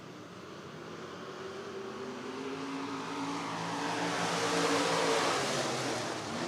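Stock cars in a heat race at Worthington Speedway roar past as a distant, broadband pack, the engine noise slowly swelling louder and then easing slightly.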